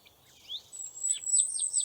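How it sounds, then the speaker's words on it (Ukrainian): Birds sing in bright, high chirps and a thin sustained whistle, clear and nearby over a quiet background. "Так, це співають пташки."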